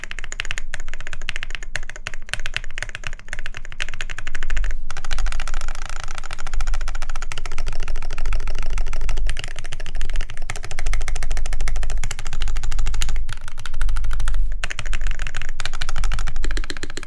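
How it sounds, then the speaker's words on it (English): Steady run of fast, clicky keystrokes on the control keys of a Noxary X60R top-mount mechanical keyboard, close and loud, with no talking. "The control keys sound good."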